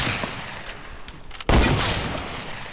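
A sniper rifle fired without the scope in Fortnite: one loud, sharp blast about halfway through, its echo decaying over steady background game noise.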